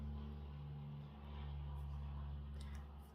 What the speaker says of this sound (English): Oh gosh, another aeroplane.